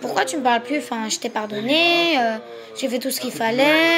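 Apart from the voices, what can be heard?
No everyday noises stand out.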